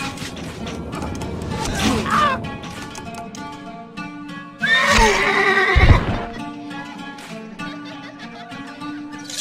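Horses in the video game Stronghold Crusader give two loud, close whinnies several seconds apart, with a short thud and game effects between them and a steady background bed of game music.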